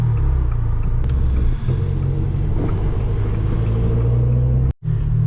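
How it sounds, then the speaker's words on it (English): A deep, loud Aston Martin engine rumbles up close, a steady low roar that cuts out abruptly for a moment near the end. "Nice Aston Martin here"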